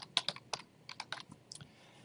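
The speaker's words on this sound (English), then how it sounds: "thank you all for not laughing too loud at my slow typing and finger pecking" Slow, uneven keystrokes on a computer keyboard, a dozen or so sharp clicks in irregular clusters with pauses between, close and alone with no talking.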